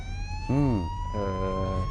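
A police car siren from the video game Burnout Paradise wails loudly in rising and falling sweeps over a steady engine drone.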